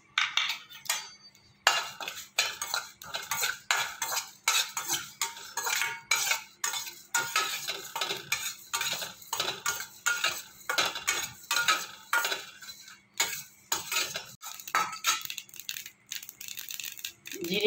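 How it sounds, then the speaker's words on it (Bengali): Fennel and cumin seeds dry-roasting in a dry kadai, a steady scraping and rattling of a metal spatula against the pan in quick irregular strokes, close and continuous for a long stretch. "এটাকে আমি একটু শুকনো কড়ায় একটু ভেজে"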